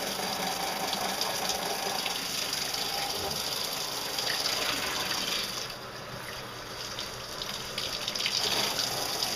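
A water sprayer soaks a dog during its bath with a continuous close hiss of spray that barely changes, dipping slightly partway through.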